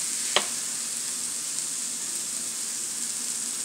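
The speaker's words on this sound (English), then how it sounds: "we want to sear this bad boy." A thick T-bone steak sears in a hot pan with a steady, moderately loud hiss and sizzle, a single sharp tap early on, and no voices.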